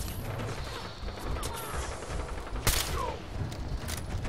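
Gunfire in the video game Fallout 4, a dense rattling fusillade of shots running steadily through the moment with one sharper, louder crack near the end, heard close and continuous.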